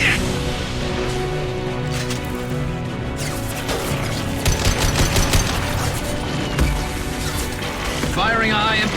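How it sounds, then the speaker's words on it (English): Gunfire in the video game Mass Effect 2 comes as rapid bursts and cracks over a dense, loud battle soundscape, with a voice speaking over the shooting. "Firing a high-impact shot."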